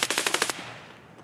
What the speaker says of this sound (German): Die Schüsse kamen aus der Richtung.